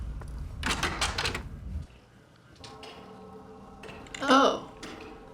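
An apartment door opening in the game Homebody, with a clear mechanical clunk and creak about two-thirds of the way through, after a muffled rumble and some quieter handling noises, with a voice heard earlier.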